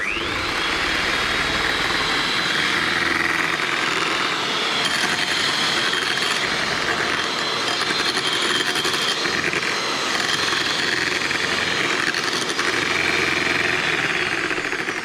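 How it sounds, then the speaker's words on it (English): An electric mixer whirring loud and steady in a bowl as chocolate is poured in for a chocolate pudding, a close, unbroken motor drone with faint rattling and no voices. "I'm going to be pouring it into this bowl with the mixer on"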